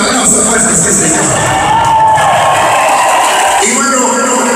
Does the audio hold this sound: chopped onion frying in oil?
no